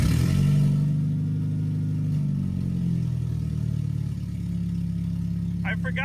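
A Genesis car with a newly fitted Chinese motor and no exhaust connected, running with a loud, steady low drone that eases slightly as it settles, with a brief voice near the end.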